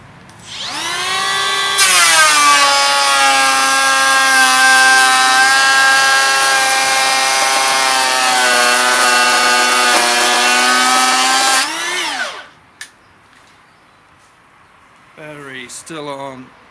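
Makita 18V cordless planer, brushless versus brushed, cutting wood outdoors: a loud whining motor spins up, holds a steady high buzzing drone for about ten seconds, then winds down, followed by a brief second short burst.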